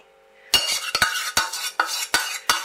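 Milk, butter and chocolate stirred together in a bowl, a utensil clinking and scraping against the sides in a run of sharp, close, fairly loud strokes with no talking.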